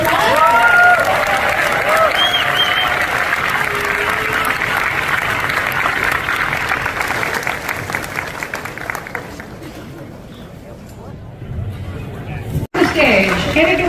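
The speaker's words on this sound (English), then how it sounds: "So let's give everybody a round of applause." Large audience applause and cheering fill a Comic-Con panel hall at San Diego Comic-Con 2023, loud and sustained before fading to scattered claps, with a brief voice near the end.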